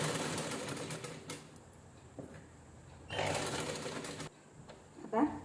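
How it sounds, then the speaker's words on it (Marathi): A domestic sewing machine runs a double line of stitching along the shoulder seam of a jeans top made from a sari, in short bursts with pauses between them, close and moderately loud. Someone talks at times between the runs. "आता डबल शिलाई देऊन घेऊया."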